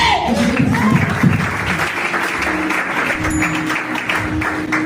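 A church congregation applauds together, a dense, sustained wash of clapping that carries on steadily for several seconds, with some voices mixed into the crowd noise.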